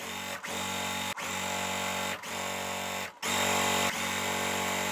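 A sewing machine chain pieces a quilt basket block in steady continuous runs of motor hum, broken by four brief pauses at roughly one-second intervals, close and alone with no talk.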